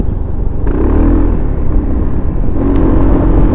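A Bristol Maxi 400 scooter engine runs close by, giving a steady low mechanical hum with slight rises in pitch, fairly loud and with no talk.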